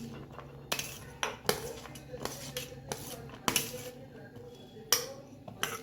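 Chopped onion, coriander, green chilli, spinach and tomato are stirred together in a bowl, a spoon clinking and scraping against the sides in irregular bursts, close and fairly loud.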